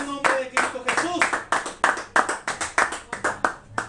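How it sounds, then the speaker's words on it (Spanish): A church congregation claps in a steady rhythm, sharp regular beats about three per second, close and prominent, with a voice speaking over them. "Bríndale un aplauso, Señor."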